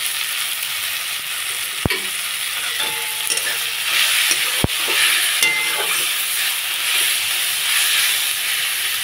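Turmeric and spices stir-fried in a pan for an arum and prawn curry give a steady close frying hiss with scraping stirs and two sharp utensil knocks, and no talk.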